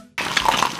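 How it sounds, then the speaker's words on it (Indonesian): An egg drops into slightly heated frying oil for fried noodles, setting off a sudden, close, steady crackling sizzle that continues without talk. "kalau minyaknya udah mulai panas dikit, masukin telur"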